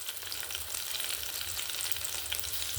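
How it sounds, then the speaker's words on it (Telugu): Green chillies sizzle in a spoonful of oil in a pan, a steady close crackling fry with no voices, continuous and even for the whole stretch. "పచ్చిమిర్చిని తీసుకొని అందులో 1 స్పూన్ నూనె వేసుకొని బాగా వేగనివ్వాలి"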